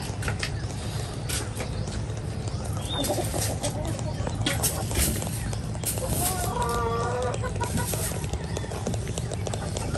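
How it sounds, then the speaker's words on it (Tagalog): Pet chickens at a fishpond farm cluck and stir as they are fed, with a steady rustling bed of noise and occasional mechanical clatter around them. "Ayan po't nagpapakain na rin si Bossing ng kanyang mga alagang manok"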